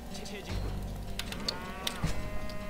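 Cows in the game Age of Empires 2 give a low, drawn-out moo against a steady background of game sounds, with a few sharp clicks and effects overhead and no clear talk.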